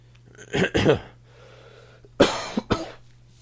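Someone coughs twice in quick succession, then pauses and coughs again in another short burst of two or three, close and loud.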